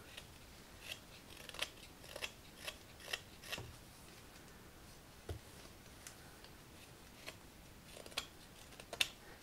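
A knife carves a green walnut branch into a ladle, giving quiet, irregular short scraping and cutting strokes, spaced apart and close to the listener.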